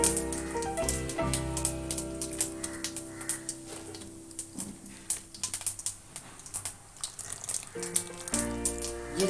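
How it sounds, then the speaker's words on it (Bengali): Whole cumin seeds sizzle and crackle in hot oil with a busy spray of small pops that rises and fades over several seconds, while a steady tonal backdrop hums underneath. "এবার আমি গোটা জিরে দিয়ে দিচ্ছি।"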